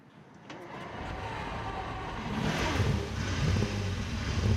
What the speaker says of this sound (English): that's the V12 firing up